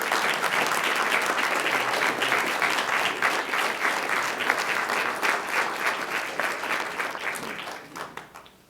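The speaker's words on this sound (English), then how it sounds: "let's give this team right here a nice round of applause for their conference championship" A school board meeting audience gives sustained, dense applause for a conference championship team, loud and continuous before tapering off at the end.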